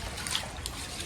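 Floodwater trickling around a house in El Salvador after a big storm, a faint steady dribble and splashing of water close by, with no voices.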